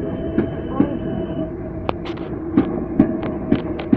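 Class 455 electric passenger train at Guildford station, a steady low rumble and hum of the units at the platform with regular clunks of wheels over rail joints and a few sharp squeaks, fairly close.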